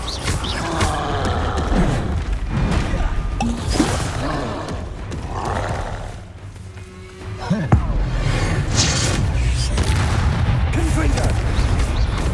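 Bombarda explosion spell in Hogwarts Legacy, heavy booming blasts amid chaotic combat noise, with a quieter lull midway followed by a sharp impact and renewed loud rumbling, voices heard throughout.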